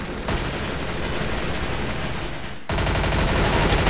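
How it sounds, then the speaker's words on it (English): Sustained machine gun fire in the Roblox shooter Arsenal, a dense, unbroken rattle of rapid shots that briefly drops out near the end before resuming louder and closer. "I'm very eager to start spewing some hot lead from my machine gun and watch the enemy dance"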